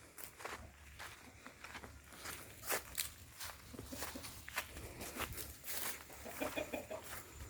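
Native country chickens clucking around a farm shed among coconut trees, soft scattered clucks and rustling steps over a steady low background hum, no voices.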